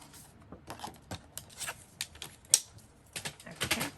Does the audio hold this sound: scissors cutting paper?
yes